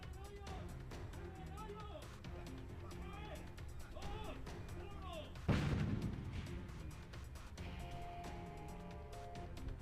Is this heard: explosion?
yes